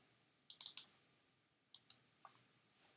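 Sharp mouse clicks from working in the Unity 2018 editor, a quick cluster of three or four followed by a couple more, close and crisp against a quiet room.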